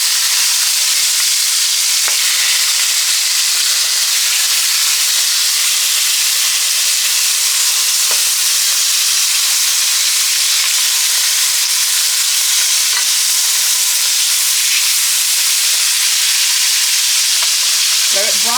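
Meat browning for birria tacos, a loud continuous hiss and sizzle of frying in a pan, steady throughout with only faint occasional knocks and no speech.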